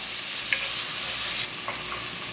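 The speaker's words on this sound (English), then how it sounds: "I'm just going to cook it until the onions are nice and tender" Onions frying in a pan over low-medium heat give off a loud, continuous sizzle with a few faint clicks of the utensil.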